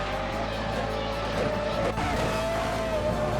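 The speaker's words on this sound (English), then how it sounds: "These were the early days of the sequential gearboxes. Very loud clicky sound." Race cars with early sequential gearboxes roar steadily past, their engines droning loud and continuous, with a brief sharp click of a gear shift cutting through midway.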